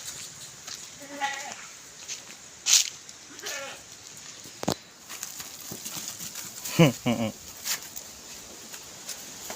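Goats bleat several times, some wavering calls near and others fainter, with scattered voices and rustling between them.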